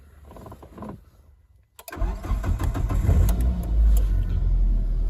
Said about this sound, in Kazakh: Ендігі мәселе мәшін қыздырып көрейік